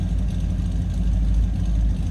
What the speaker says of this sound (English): Nice sounding truck. A 283 smooth running engine in this one.